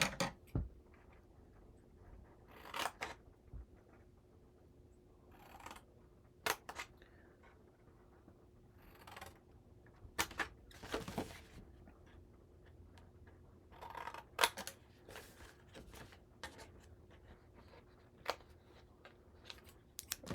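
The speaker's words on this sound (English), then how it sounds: "I'm just going to use scissors to do it." Scissors snipping through paper packaging for a handmade Valentine's mini album, quiet and close, with scattered crisp cuts and short clusters of snips over a near-silent room.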